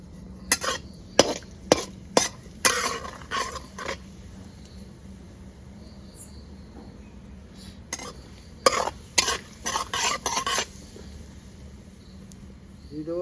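Whole cumin seeds frying in mustard oil, a faint steady sizzle under sharp, irregular clusters of spitting crackles and pops, near and fairly loud, with no talk.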